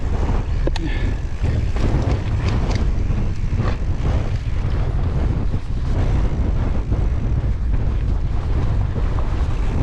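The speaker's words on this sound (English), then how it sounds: "That wind is just ludicrous." Strong wind buffets the microphone during an outdoor ride on Derwent Edge, a loud continuous roar that fills the whole stretch with no clear speech.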